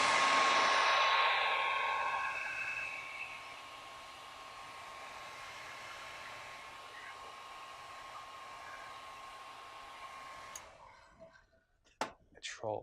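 A hair dryer blows over airbrushed paint on custom Converse shoes with a Trolls design. A strong whir softens to a steady hum, stops after about ten seconds, and is followed by a few sharp clicks.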